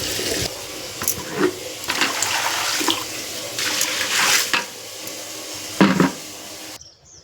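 Water splashes and gushes in repeated bursts, poured over clothes, loud and close with brief pauses between.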